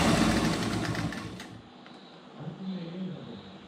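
Sewing machine stitching a petticoat seam, running fast and loud for about a second and a half before stopping, followed by quieter handling noises.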